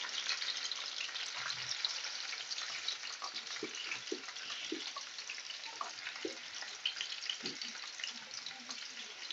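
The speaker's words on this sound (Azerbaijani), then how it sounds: "Mən həmişə kartof kızardanda ağzını örtmürəm." Potatoes frying in oil in an uncovered pan, a steady bright sizzle throughout with a few soft knocks and clinks from stirring. Close-up, with no voices.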